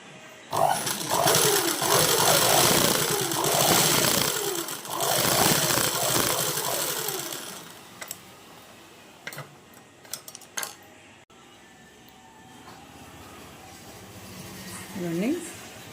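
A sewing machine runs on its first stitch setting in a continuous loud, rhythmic mechanical whir for several seconds, then stops. Clicks and handling noises follow, and a person talks through part of it.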